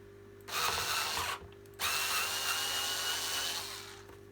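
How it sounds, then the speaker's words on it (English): Power drill backing screws out of a Goblin Electra model, two close whirring bursts separated by a brief pause over a faint steady hum. "Now I'm going to remove these screws."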